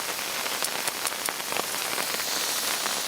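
Steady rain patters on a camping tent flap outdoors beside a parked car, a dense continuous hiss with scattered louder drops striking the surface close by.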